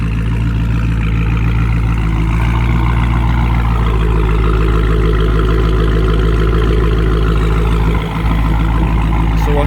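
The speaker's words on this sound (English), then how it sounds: "so you can guys be able to hear attack exhaust in this car" A Dodge Charger Daytona 392 with an Attack exhaust idles close by, a steady deep burbling rumble that holds evenly throughout with no talking.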